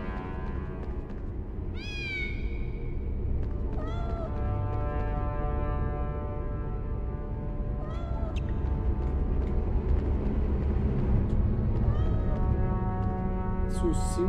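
A cat in the Harry Potter PS1 video game meows several times with rising, wavering cries spread across the stretch, over a constant loud game background and some talk.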